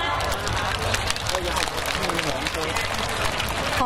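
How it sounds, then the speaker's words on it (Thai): Loud, continuous applause from a big crowd at a Lantern Festival in Khon Kaen, thick and sustained with a murmur of voices and cheering blended through it. "ใครยิ่งปรบมือดังเท่าไหร่ขอให้รวยเท่านั้น"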